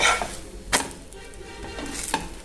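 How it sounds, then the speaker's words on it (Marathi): Onion-coriander paratha roasting with oil on a griddle over medium heat gives a faint, low sizzle, broken by a few sharp spatula taps and scrapes. "थोडं थोडं तेल सोडायचं तुम्हाला वाटेल तेल भरपूर आहे काय सकाळच्या नाश्त्यासाठी ती खूप छान लागतो ना मीडियम गॅसवरती भाजून घ्यायचा"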